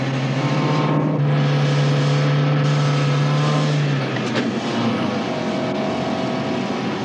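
A Bates car engine runs on methane gas, a loud, steady drone close by that holds even and then shifts slightly lower partway through, with no talk over it.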